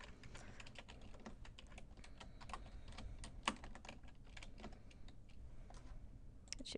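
Soft, quick clicking of typing on a computer keyboard runs steadily throughout, with a few louder key taps, faint and close in a quiet room.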